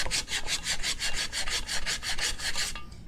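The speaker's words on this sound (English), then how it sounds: "I'm just gonna come in here with the 400 and keep sanding away" An aircraft propeller blade edge being sanded by hand with 400-grit sandpaper, a loud rhythmic rasp of about a dozen even back-and-forth strokes, up close, ending abruptly.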